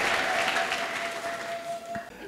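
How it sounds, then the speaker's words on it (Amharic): A church congregation applauds in a dense, steady wash of clapping that carries through the whole stretch and thins slightly at the end, with a faint sustained tone running underneath. "ጭብጨባችሁን ለጌታ እየሰጣችሁ"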